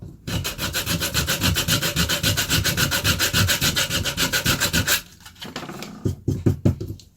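Coarse sandpaper rubbing across the lacquered face of a rawhide mallet, a fast steady back-and-forth scrubbing, loud and close, pausing briefly before a few slower strokes.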